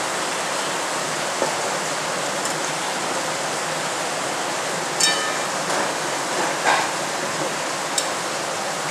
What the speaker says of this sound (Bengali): সেদ্ধ করা মাংসটা আমি ঢেলে দিচ্ছি।